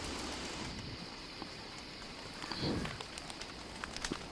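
Rain falls in the game Don't Starve as a steady, soft hiss with scattered light patters and a few brief brighter ticks, heard on its own without voices.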